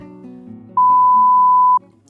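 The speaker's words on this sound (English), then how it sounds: "Please leave a message after the beep." A single electronic answering machine beep, loud and steady, lasting about a second, with quiet background hum before and after.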